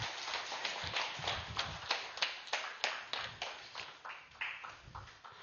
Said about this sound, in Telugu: లోప్సాంగ్ రాంపా మాస్టర్కి గట్టిగా చప్పట్లు కొడదాం